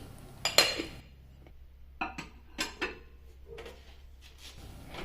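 Dishes clink and clatter close by: a sharp ceramic knock, then several lighter taps and scrapes spaced out as a bowl of frozen idlis is set down and covered with a plate.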